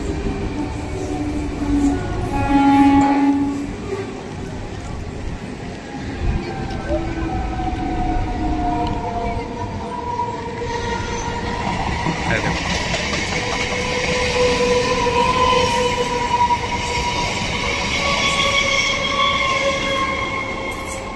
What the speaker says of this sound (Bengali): এই হচ্ছে শহীদ এক্সপ্রেস, পুরো ধুলো উড়িয়ে পুরো দ্রুত গতিতে শহীদ এক্সপ্রেস